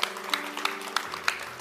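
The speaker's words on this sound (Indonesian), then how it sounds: "Tepuk tangan." Clapping during a church sermon, about six sharp, evenly spaced claps in a quick steady rhythm over a faint low hum.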